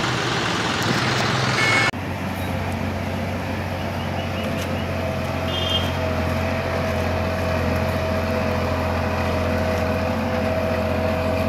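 4x4 tractor, John Deere or Massey 9500, reversing with an MB plough taking a deep cut in a field; a loud, steady diesel engine drone runs throughout after an abrupt shift near the start.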